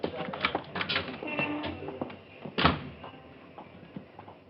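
A door opens and closes in a radio drama, a few soft clunks and rattles under quiet voices, with one sharper knock near the end of the short, muffled scene.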